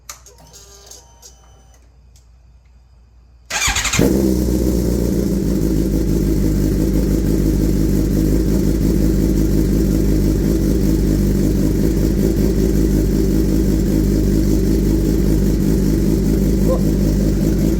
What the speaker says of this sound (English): I'm about to fire this bike up and take it around the block